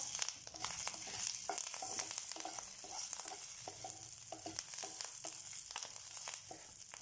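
Dals and curry leaves roasting in a pan give a steady, close sizzle and frying crackle with light stirring scrapes throughout, no voices.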